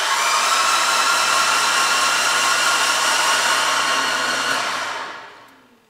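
A brand new car engine cranking over on the starter with the fuel pump disabled, a steady loud whirring drone that holds for several seconds and then winds down and fades.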